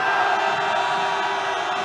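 A large crowd at a candlelight protest rally near Seoul City Hall shouts for Yoon Suk-yeol's impeachment, a loud, sustained massed roar of voices lasting a couple of seconds.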